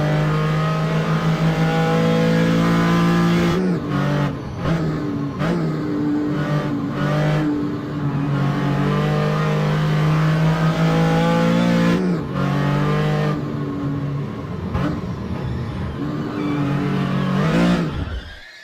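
Porsche 935 K3 race car engine in a virtual historic sportscar race at Road Atlanta, a loud close roar rising and falling through repeated gear shifts and revs.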